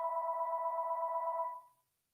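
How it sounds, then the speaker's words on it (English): A landline telephone in a quiet yoga class sounds a single sustained electronic ring tone that holds steady, then cuts off and fades into silence. "I thought I unplugged that phone."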